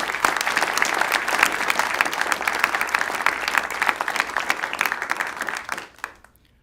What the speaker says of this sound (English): I think that deserves a round of applause to the Hubble team